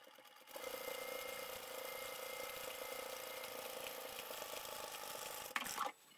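A sewing machine stitches fabric for a beginner cutlery roll-up pouch, giving one steady close mechanical whir for about five seconds before it abruptly cuts off.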